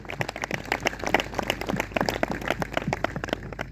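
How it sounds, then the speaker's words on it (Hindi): Congregation at a Christian revival church meeting clapping loudly, a dense, steady patter of many hands close by for several seconds with no talking. "एक जोरदार ताली प्रभु यीशु के लिए"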